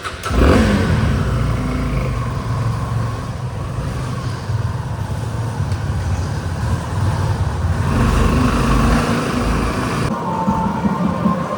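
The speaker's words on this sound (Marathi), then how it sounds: "ती बघा, ती चालली कुणालची गाडी आणि हा निघालो मी" A car pulls away and drives off, its engine revving up near the start and then holding a steady mid-pitched drone with a second rise of acceleration toward the end.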